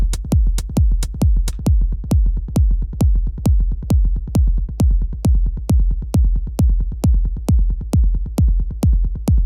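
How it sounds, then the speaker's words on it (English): A Roland TR-909 rumble kick from a step sequencer in a minimal techno live set thumps steadily, deep booming hits with a short click, looping evenly and alone for several bars. "I opted to go with a kick on the TR-909, so that's a different kind of kick"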